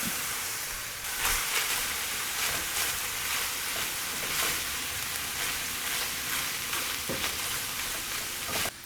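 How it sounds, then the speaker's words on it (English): Onions and celery sizzle steadily in a hot pan, a continuous close frying hiss with occasional stirring clatter and no talking. "So I'm going to put the onions and celery in, and we'll just soften that up a little bit."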